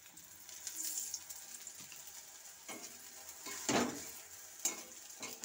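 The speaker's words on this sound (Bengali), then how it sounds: "অল্প একটু তেল দিয়ে ভেজে নিচ্ছি।" A maida and vegetable flatbread fried in a little oil on a pan: a faint, low sizzle broken by a few soft clinks and scrapes of turning.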